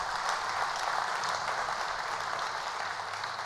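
Sustained applause at an awards ceremony for a 2025 prize winner in a Paris hall, a steady dense clapping from a large crowd throughout.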